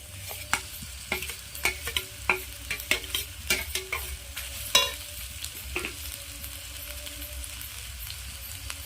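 Boiled potatoes are stirred into frying vegetables: a spoon clacks and scrapes repeatedly against the pan over a soft sizzle, the clatter thinning out after a few seconds.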